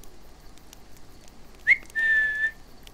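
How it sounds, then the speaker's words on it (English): A person whistles briefly, a short rising chirp followed by a single sustained clear note about a second long, faint and close in a quiet room with no talking. "Can you guys hear me whistle at all?"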